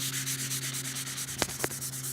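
Steady, even rubbing of 400-grit sandpaper worked back and forth by hand on a homemade claybord panel, close and continuous, with a couple of brief sharp clicks near the end.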